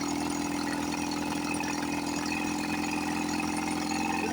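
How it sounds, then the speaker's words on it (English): A 1954 Johnson 5.5 horsepower outboard motor idles after sixty years of sitting, giving a steady, even drone with a constant low hum, close by and uninterrupted, with no voices over it. "This motor sounds really good."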